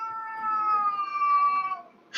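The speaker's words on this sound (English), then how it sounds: "I see even Fat Cat's complaining about this." A cat meows, expecting dinner, in one long drawn-out, rising-then-falling wail lasting nearly two seconds, close and clear in a quiet room.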